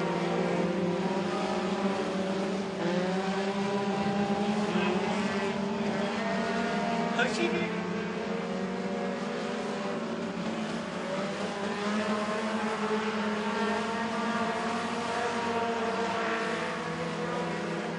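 Race cars in a heat race at Crossville Speedway hum steadily at a distance as a continuous engine drone for the whole stretch, with an announcer talking over it.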